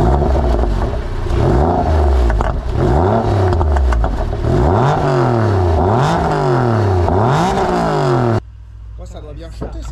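A Porsche GT3 engine revs hard in a series of about five rising and falling sweeps, loud and close, then cuts off abruptly to a quieter background near the end.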